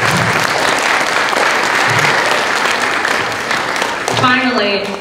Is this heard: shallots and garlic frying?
no